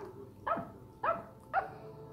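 A pet dog barks at a toy dog, three short, sharp barks spaced about half a second apart, close by and with nothing else over them.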